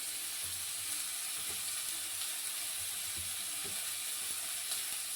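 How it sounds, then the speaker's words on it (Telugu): Sliced onions frying in hot oil, a constant bright sizzling hiss that holds evenly throughout, with a few soft low knocks from stirring underneath, close and steady with no talking. "ఇప్పుడు ఇదే ఆయిల్లోనూ ఉల్లిపాయ ముక్కలు వేస్తున్నాను."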